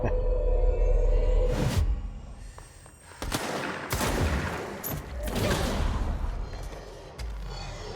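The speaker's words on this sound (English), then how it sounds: "Minigun." Heavy automatic gunfire from a minigun in the action video game Control, loud bursts with whooshing effects and brief gaps between volleys, close and dominant.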